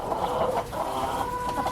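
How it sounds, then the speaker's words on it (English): Chickens clucking inside a coop, a dense, continuous stream of overlapping calls at close range with no talk. "there were chickens all over"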